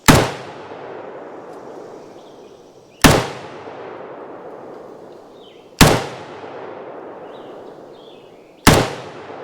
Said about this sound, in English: For such a short barrel and relatively light gun, recoil's not bad at all.